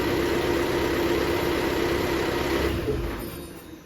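A diesel-swapped Jeep TJ Wrangler with an OEM AW4 transmission mount runs in reverse gear, a steady low hum with a vibrating drone that fades away near the end.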